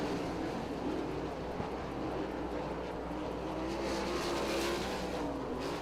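410 sprint cars racing at Lincoln Speedway, a continuous loud engine roar from a pack of cars on the dirt oval, swelling slightly toward the end, heard from a distance without commentary.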